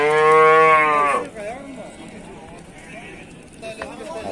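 Cattle at a livestock bazaar give one loud, sustained, deep moo lasting about a second, close by, followed by market chatter and people talking.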